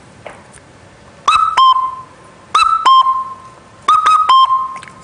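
A cuckoo call is imitated on a pipe: three clear two-note whistled phrases, loud and close, spaced evenly with short silences between.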